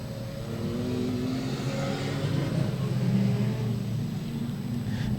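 A production sedan race car engine drones steadily on a speedway, a continuous loud roar that holds even throughout without clear gear changes or passing sweeps.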